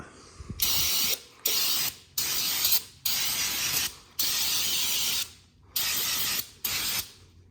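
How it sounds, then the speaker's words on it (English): Repeated hissing bursts of aerosol carb cleaner sprayed on a 65cc dirt bike, about seven short blasts separated by brief pauses, close and loud. "we're gonna spray some carb cleaner on this thing"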